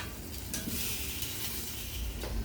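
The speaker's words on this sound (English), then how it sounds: "we're gonna finish grilling up these veggies" Vegetables for a Mediterranean salad sizzling on a grill: a soft, continuous hiss with a few light scrapes and clicks, heard close and alone at low volume.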